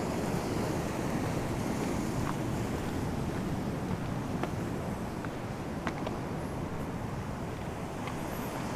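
Ocean waves breaking on the beach at Sirombu make a continuous wash of surf mixed with wind buffeting the microphone, steady and fairly distant with no voices.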